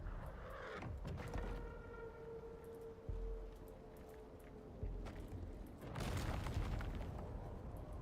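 Explosions go off in the ICARUS survival game: a dull boom, a sharp blast around the middle, then a bigger roaring detonation near the end, all over a constant low rumble with no talk.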